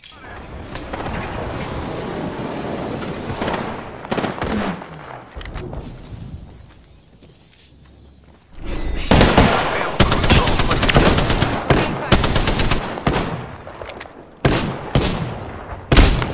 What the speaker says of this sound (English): Nine shots fired and they're hitting me.